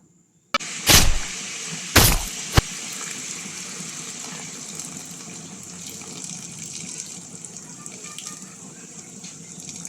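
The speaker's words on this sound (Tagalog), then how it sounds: "Lagay na po natin yung ating coke" Coca-Cola is poured into a cooking pot of pork adobo with eggs, opening with a couple of sharp splashes and then settling into a steady fizzing gush that runs on alone.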